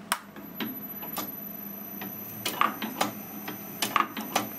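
An Eminence Manufacturing 6K projectile sizer, driven by a variable frequency inverter, running steadily with a fast series of sharp mechanical ticks and clacks over a low hum, close and fairly quiet.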